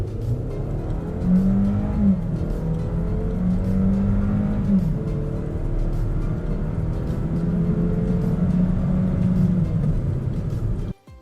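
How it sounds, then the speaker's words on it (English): A Buick car accelerates from 0 to 60, its engine droning loudly and steadily, rising in pitch through several gear changes over about ten seconds. "The graph shown shows the 0 to 60 of the Buick on both tests."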